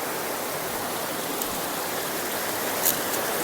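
Jalatarangini waterfall near Maredumilli, a constant broadband rush of falling water, even and unbroken, moderately distant with no voices.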